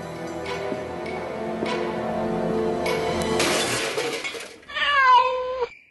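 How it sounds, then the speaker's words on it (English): A cat meows once, loud and close, after several seconds of steady clinking and ticking room ambience in a noir-style scene, with no voices. "Stupid cat."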